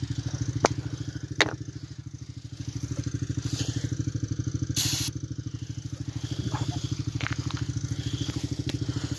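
A Honda Big Red engine runs with a steady, rapid chugging idle close by, its throb holding even throughout, with a few sharp clicks and a brief metallic clatter on top.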